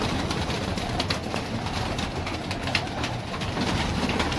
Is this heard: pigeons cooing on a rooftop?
yes